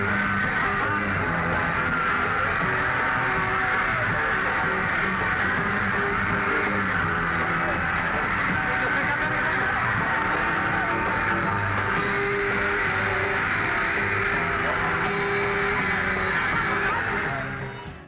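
Screaming crowd at a concert, a dense continuous wall of high shrieking voices with a muffled band underneath, steady and loud for the whole stretch before cutting off abruptly.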